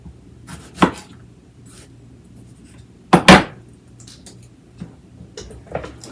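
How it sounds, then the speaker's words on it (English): A knife cuts through a salsa ingredient on a cutting board, halving it before the stem is removed: a few sharp, separate chops, the strongest about a third of the way in, close and fairly loud against a quiet room. "I'm just cutting it in half and then taking out that little stem part."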